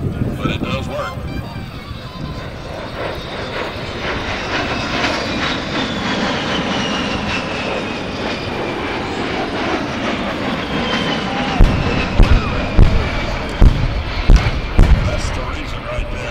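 B-17 bomber engines at the 2011 Selfridge air show make a steady, loud, broadband drone that holds throughout, with a few sharper thumps near the end and a busy outdoor crowd ambience.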